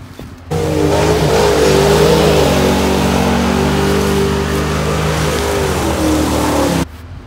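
A car engine revs hard while drifting in snow, starting suddenly into a loud, sustained roar with shifting pitch as it accelerates, then cutting off abruptly near the end; close and dominant with no talk.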